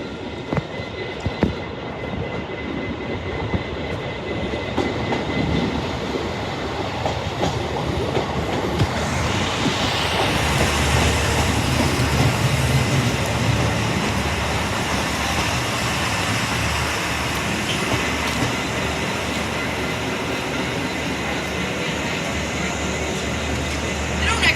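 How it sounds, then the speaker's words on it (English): Train passing through Jordanstown station, a sustained rumble and rail roar that swells and holds for over twenty seconds, with clattering wheels on track and a brief voice early on. "There's a train coming."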